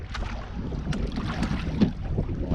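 Wind rushes steadily across the microphone while a boat is rowed on open water during the North Carolina Challenge, a constant close blustery roar with faint splashes and knocks beneath it.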